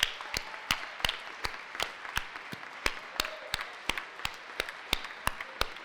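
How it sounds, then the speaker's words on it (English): A small audience claps for award recipients at BEAR Day 2025, a thin, steady patter of individual distinct hand claps at moderate distance, with no one talking over it. "Let's give them a round of applause"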